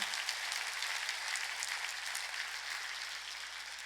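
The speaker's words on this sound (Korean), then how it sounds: "빨리 박수 빨리" Applause from a church congregation at a Sunday worship service, a dense, steady patter of clapping lasting several seconds at moderate distance, no voices.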